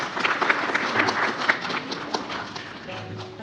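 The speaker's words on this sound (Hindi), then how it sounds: "जोरदार ताली से स्वागत कीजिए प्लीज एवरीवन।" Audience applause at a corporate peace conference in India, a dense, steady wash of many hands clapping that fills the room throughout, with faint voices mixed in.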